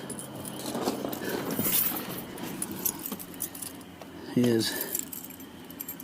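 Car keys for a 1988 Chevy Silverado jangle and clink close by in a quiet garage, with a brief burst of metallic rattling near the end while someone talks over it.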